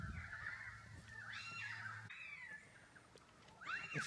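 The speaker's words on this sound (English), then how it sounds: "It's a currawong." Australian currawong calls rising in loud, ringing phrases in the background, a couple of bursts over steady outdoor ambience, with a sharper call near the end.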